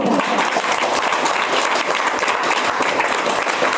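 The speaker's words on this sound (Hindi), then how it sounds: "अभी एक बार जोरदार तालियां चाहूंगी" An audience at a business talk gives steady, loud applause, a thick wash of many hands clapping that holds evenly from start to finish without a break.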